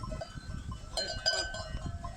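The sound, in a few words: flock of sheep with a shepherd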